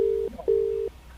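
Telephone disconnect tone after a prank call is cut off: two steady electronic beeps, a short one then a longer one, fairly loud with no one speaking.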